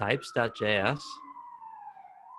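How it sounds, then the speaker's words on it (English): A distant siren wails in a long sustained tone, starting under a few spoken words and then continuing alone. "I have so many sirens where I live"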